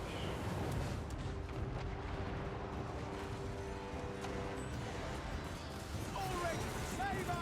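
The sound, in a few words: cannon fire in video game Total War: Warhammer 3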